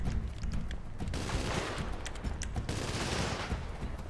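Dense, continuous minigun fire from the video game GTA 5 roars loudly for several seconds, a rapid unbroken stream of shots with brief sharp cracks on top and no talking.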